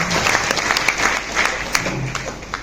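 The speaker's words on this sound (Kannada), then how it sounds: "ಒಂದು ಪ್ರೀತಿಯ ಚಪ್ಪಾಳೆ ಬರಲಿ ನಮ್ಮಿಂದ" Steady audience applause at a Kannada stage function that opens with a lamp-lighting ceremony, a loud, dense clatter of many hands clapping continuously throughout, with faint crowd murmur beneath.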